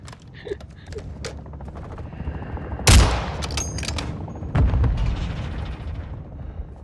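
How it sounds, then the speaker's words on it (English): Mortar strike explosions and gunfire in Call of Duty burst out as two heavy booming blasts over a continuous bed of rattling weapon fire, loud and close. "Hostile mortar strike incoming."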